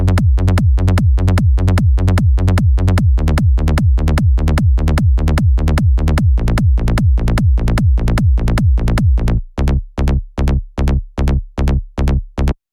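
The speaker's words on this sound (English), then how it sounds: "we have a very subby kick with a long tail, and then we have a rolling offbeat bass line, which is playing 2 notes after each kick" Trance low end: a deep, subby kick with a long tail thumps steadily, each followed by two rolling offbeat bass notes, looping loud and alone before thinning to sparser hits near the end.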